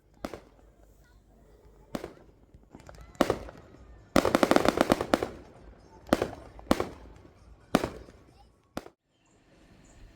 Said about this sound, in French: Ensuite, les feux d'artifice, les pétards, c'était juste magnifique.